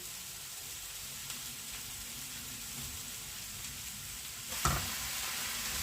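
A steady soft sizzle of sliced button mushrooms frying in a dry pan without oil, with a brief clatter near the end, no voices.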